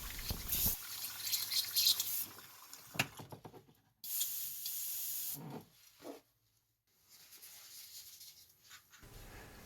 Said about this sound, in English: The most important part about using an airbrush is keeping it clean.